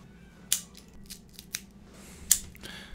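Sharp snips of a cutter clipping the cap of a Roma Craft Neanderthal HN cigar, several crisp clicks spaced irregularly over a few seconds, close and alone.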